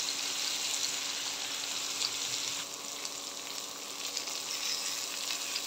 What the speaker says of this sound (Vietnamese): Vừa rồi em mới chỉ chiên cái chuối thôi